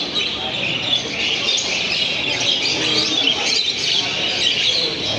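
African lovebirds at a crowded indoor mall bird show, a dense continuous wash of high chirps and squawks from many birds at once, with faint background chatter.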